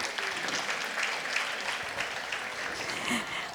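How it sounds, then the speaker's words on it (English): Community foundation audience applauding in a hall, a sustained dense patter of many hands clapping at steady loudness for the whole stretch. "Big round of applause for Ruma."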